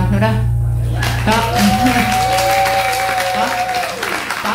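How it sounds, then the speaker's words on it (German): Audience applause fills a live radio Frühschoppen show at the Bräustüberl Maxlrain beer hall, a dense, steady clatter of many hands lasting several seconds, with a sustained tone and crowd noise running through it. "War das Applaus?"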